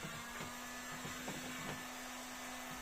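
A heat gun blows steadily while window tint film is applied, giving a continuous airy whir with a low electric hum and a few soft taps or thumps along the way.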